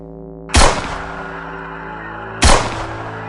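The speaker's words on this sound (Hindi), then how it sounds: "कुछ ही क्षणों बाद 3 गोलियां चली।" Two loud, sharp gunshots about two seconds apart, each followed by a booming echo that slowly fades over a low background drone.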